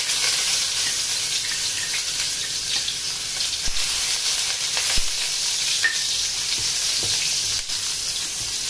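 Ginger sizzling and frying in hot oil in a pan, a steady dense crackle with occasional sharper pops, close and continuous with no talking.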